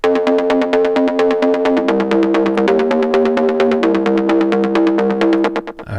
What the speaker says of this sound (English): Just a really cool, nice, easy, like arpeggiated mid bass thing.